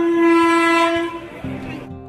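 A loud, sustained horn blast from an early-morning passenger train out of Ranaghat holds one steady tone, then drops into lower, rougher tones as the train rumbles close by.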